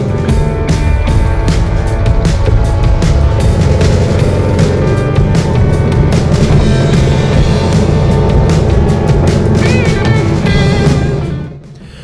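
Modified Suzuki DR650 motorcycles with big fuel tanks and high-altitude carburettors ride in Bolivia, a loud, steady engine drone mixed with heavy wind rumble that holds constant before dropping off sharply at the end.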